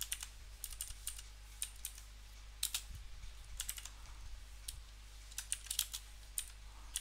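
Code being typed on a computer keyboard, with quick clustered bursts of key clicks and short pauses between them, close and fairly quiet over a low steady hum.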